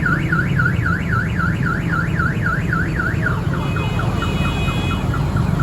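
Loud, close ambulance siren wailing in fast, regular up-and-down sweeps on a road cleared by police, with steady traffic rumble underneath and no talking.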